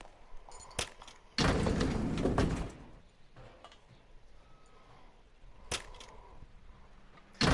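Sliding elevator door in the video game L.A. Noire, opening with a loud broadband rush lasting about a second, followed by quieter clicks and a later thump as it shuts.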